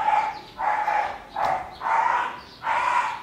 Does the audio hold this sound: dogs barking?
yes